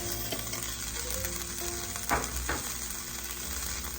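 Ghee sizzling and frying in a pan, a soft steady crackle with a few brief louder pops and scraping stirs near the middle, close and quiet with no talking.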